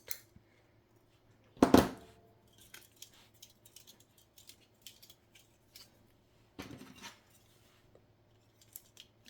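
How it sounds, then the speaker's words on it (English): Floral wire is snipped by cutters in one sharp, loud close clip, followed by quiet small clicks and rustles of handling and another softer crunchy cut later in an otherwise hushed space. "Floral wire. Cut."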